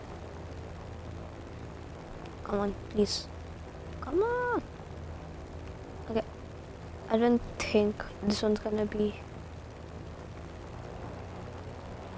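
An airplane flying in the video game Just Cause 3 gives a steady low engine drone throughout, with people talking and exclaiming over it in short bursts.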